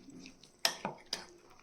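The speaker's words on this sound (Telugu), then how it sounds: "గానుగ నూనె వేసుకుని ఇప్పుడు పచ్చళ్ళు కలుపుకుందాము" Mango pickle being stirred with cold-pressed oil in a metal vessel, three distinct clanks of a spoon against the rim amid soft wet scraping, close and alone.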